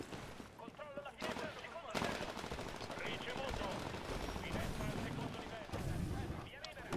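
Rapid automatic gunfire in the video game Titanfall, dense continuous bursts of shots filling the scene with a voice faintly underneath.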